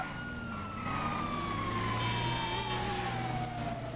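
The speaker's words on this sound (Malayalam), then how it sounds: "ഇതിപ്പോ സൈറൻ ഉണ്ടല്ലോ ഓൾറെഡി." An emergency siren wails with a long falling tone over the low rumble of a moving vehicle, loud and close.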